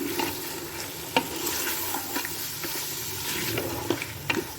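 Mutton masala with tomatoes and green chilies fries in a pan, giving a steady low sizzle and bubbling broken by occasional sharp stirring clacks from a utensil; there is no talking.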